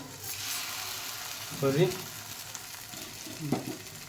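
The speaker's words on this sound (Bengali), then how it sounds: "এক পাশে তোমার ডালের মশলাটাও ভাজছি ফোড়নের" Spices for dal tempering fry in hot oil with a soft, steady sizzle, and two brief louder bursts of stirring or spitting rise above it.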